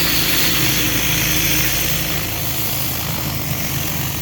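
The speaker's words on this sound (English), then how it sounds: "Got Dakota hard surface cleaner, 36 inches, cuts like a madman, a long hose run." A pressure washer fitted with a 36-inch Dakota hard surface cleaner, running outdoors over a long hose run, gives a loud, steady engine roar that holds unbroken throughout with no voices.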